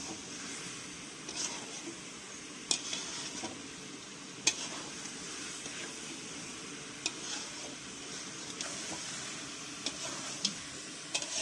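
Mutton and potatoes sauté in fried spice masala in a home kitchen pot, with a steady sizzle and scattered sharp ticks of a spoon stirring against the pan, moderately loud and continuous.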